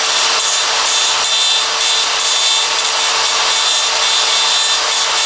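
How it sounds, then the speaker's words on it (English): A die grinder grinds out the center of a brake part during a Wilwood big brake upgrade on a Mitsubishi Evo, giving a loud, steady, abrasive hiss that runs unbroken and close throughout. "die grinding out the center"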